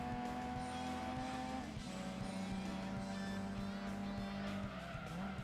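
Race car tyres scrub and squeal at high speed in Gran Turismo 2 on PS1, a sustained tonal screech over a droning engine, with pitch dips and repeated bursts of skidding, loud and close.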